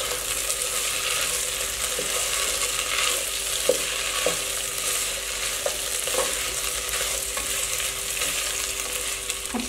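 Minced meat and chopped capsicum are stirred together in a frying pan for keema shimla mirch, giving a steady close sizzle broken by scattered spoon scrapes and clicks against the pan, with no voices.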